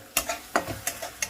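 Jackfruit curry is stirred and sautéed in a pan over low to medium gas. Close, sharp scrapes and clinks of a spatula come every few tenths of a second over a soft sizzle, and no one speaks.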